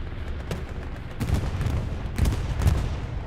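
Distant artillery shelling rolls through a WWII battle in Hurtgen Forest along the Siegfried Line, with repeated muffled booms and crackling gunfire layered over a constant battlefield rumble.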